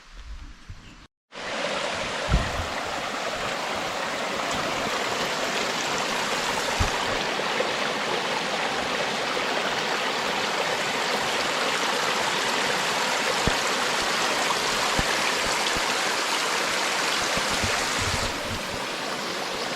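A stream at Schubert's Gap on the Appalachian Trail rushes steadily and loudly close by, a continuous broad splashing flow that starts abruptly after a brief quiet moment and carries on unbroken, with no voices.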